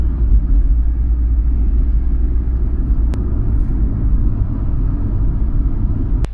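Interior of a car with a previously diagnosed P0340 camshaft sensor fault on a road test, a steady loud low engine and road rumble throughout with two brief sharp clicks.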